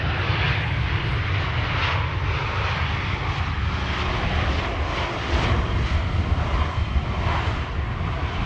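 An 11-year-old airliner arriving from Morocco on Schiphol's Polderbaan gives a steady, fairly loud engine roar with a deep rumble underneath, continuous and even throughout with no speech.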